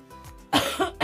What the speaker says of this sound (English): I just didn't want to cough in everybody's ears